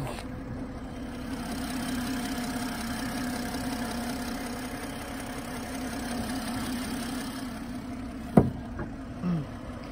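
A BMW M340i with the B58 inline six-cylinder engine idles steadily with a smooth, even hum, heard up close with no talk, and a couple of brief clicks near the end.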